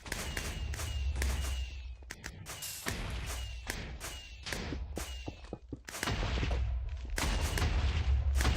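Minecraft fireworks on PlayStation 3 crack and pop in rapid bursts, with sharp repeated booms and thumps that come close together and stay loud throughout.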